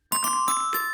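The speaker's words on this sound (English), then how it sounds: "Desk bells." Desk bells ring out a jingle in four quick, bright strikes whose tones overlap and ring on, played alone and close.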